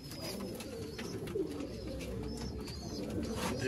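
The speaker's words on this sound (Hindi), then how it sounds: "मियाँ नज़ीर साहब वाले प्योरिटी च कबूतर" A pair of golden breeder pigeons coo steadily and softly up close, with faint chirps and outdoor background noise throughout.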